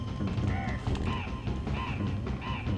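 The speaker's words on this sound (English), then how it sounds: "the bird just yells at you" A cartoon bird in the SNES game Donkey Kong Country squawks and yells in a run of four repeated, evenly spaced rising calls, loud and close over game background noise.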